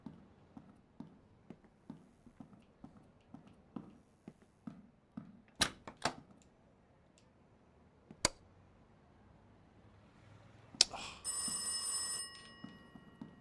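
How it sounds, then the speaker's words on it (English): A telephone rings in the horror game Playtime: Rise of Insanity, a bright bursting trill near the end, after a run of soft rhythmic footsteps and a few sharp clicks and knocks. "Oh, there's the phone."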